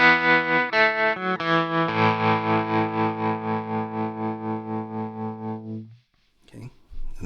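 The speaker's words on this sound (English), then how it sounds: "You can hear the tremolo on the" Enya Inspire smart guitar with a tremolo effect: sustained chords pulse in a steady, regular volume wobble for several seconds and then fade out, followed by a faint hiss.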